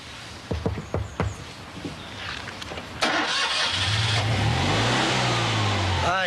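A freshly repaired car engine fires up with a few sharp cranking bursts, then catches and settles into a loud, steady running roar with rising and falling revs close by.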